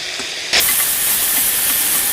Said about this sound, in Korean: 자 볶아 보겠습니다. 불을 조금 약하게 했어요.